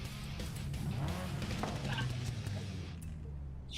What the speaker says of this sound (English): Oh, that turbo sound.